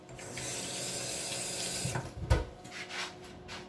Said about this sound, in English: Just going to rinse my hands quickly.